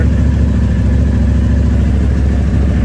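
Can-Am Maverick Max side-by-side engine with a rebuilt motor, running at a steady, loud idle up close, an even rumbling throb with no talking.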